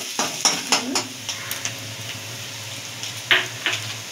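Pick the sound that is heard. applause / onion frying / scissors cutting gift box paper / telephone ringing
onion frying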